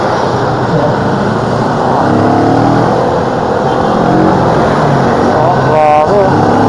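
Dense road traffic jammed along Commonwealth Avenue: a steady, loud wash of car and motorcycle engines close by, with occasional revving and vehicles passing, continuous throughout.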